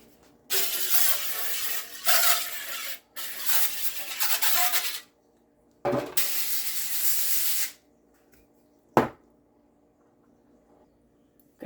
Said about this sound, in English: I'm just gonna grate it.